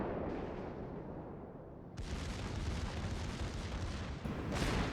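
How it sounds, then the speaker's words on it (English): Torpedo hits on a warship in the naval combat game World of Warships, with dense rumbling explosions that erupt loudly after a brief build-up and keep roaring continuously. "It's getting hit by torpedoes."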